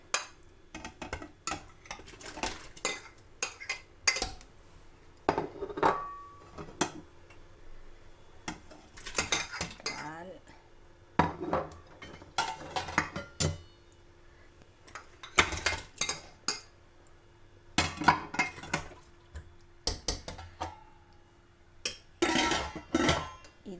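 Fish and ingredients being dropped into a cooking pot for Sri Lankan palmyra flour koozh, with sharp metallic clinks, spoon scrapes and clatters in scattered bursts over about twenty seconds, close up.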